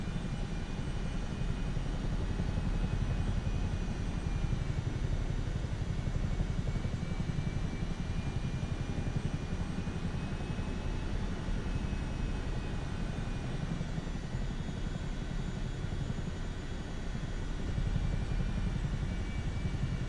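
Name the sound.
Chinook helicopter flying in Microsoft Flight Simulator 2024 video game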